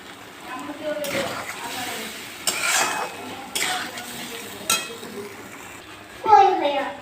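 Khichuri for small children is tipped into black cumin tempered in hot oil and stirred in a pot, giving soft scraping, clinks and a faint sizzle, with a voice talking throughout.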